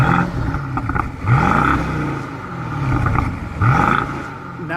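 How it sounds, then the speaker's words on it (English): A BMW 650i Gran Coupe with a 4.4 litre twin-turbo V8 revs three times while parked, each blip rising to a loud, deep snarl and settling back to a rumbling idle, close by with no talking. "Let's do a little rev time."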